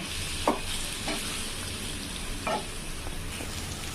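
Paneer pieces frying in hot oil in a pan for paneer tikka masala give a steady, close sizzle, with brief stirring scrapes and clinks now and then and no talking.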